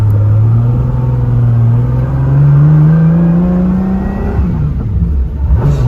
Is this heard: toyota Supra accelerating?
yes